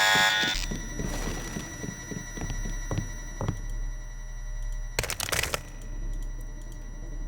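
An alarm rings inside a hotel building in the video game Deus Ex, a steady electronic tone droning under clicking footsteps and gunfire-like bursts, with no talking.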